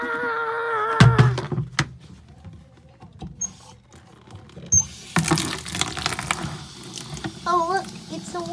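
Warm water pouring and splashing like a small waterfall, with sloshing and patter near the microphone, a sharp thunk near the start and brief vocal sounds over the flow.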